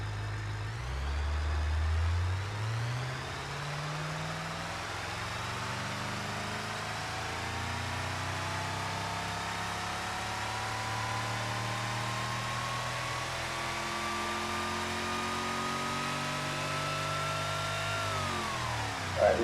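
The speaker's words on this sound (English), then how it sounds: "slowly increase the RPM until I get the over rev warning" Rock crawler engine in BeamNG.drive revving steadily higher toward its over-rev limit, a rising mechanical whine that climbs continuously for about twenty seconds at a constant level, alone with no talk.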